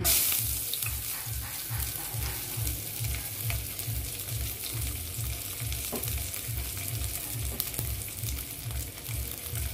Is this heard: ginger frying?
yes